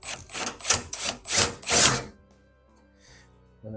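Five or six loud, rasping drill bursts as a larger bit cuts through spot welds on a VW Beetle's front inner wheel area, close and steady in rhythm, each about a quarter second apart, then silence with a faint clunk at the end.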